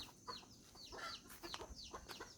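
Bantam chickens and chicks cluck and peep on a farm in Chanthaburi, Thailand, with quick, close, fairly faint calls repeating steadily throughout.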